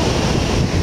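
Typhoon surf at Sendai Port beach, with waves crushed by a northeast wind; a loud, dense, continuous wash of breaking water mixed with wind rumble on the microphone.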